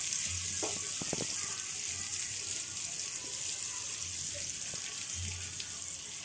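Onion and green chilies frying in a pan for a carrot and potato sweet corn pulao, a soft steady sizzle with a few faint clinks, fairly quiet and without voices.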